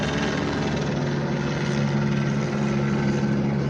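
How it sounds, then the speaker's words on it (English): A helicopter flies overhead, its rotor and engine making a steady, loud droning thrum that holds without fading across the few seconds, with no speech. "Look at this helicopter real quick. Let me wait until the helicopter pass"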